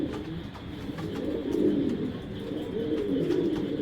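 Racing pigeons cooing steadily in a loft, a low continuous warble with soft rises, close and moderately loud with no talk over it.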